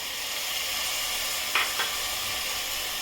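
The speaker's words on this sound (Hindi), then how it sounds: "अब टमाटर डाल रही हूँ।" Tomatoes are frying in a pan with sautéed ginger and garlic for egg biryani, giving a steady close sizzle with two quick clinks or scrapes midway and no voices.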